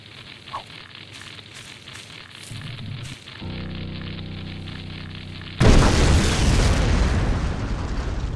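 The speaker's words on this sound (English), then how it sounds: "It's gonna explode!" Cartoon bomb going off: a loud broadband blast bursts in partway through and its rumbling roar holds for several seconds, following quieter low-pitched sounds and a droning tone.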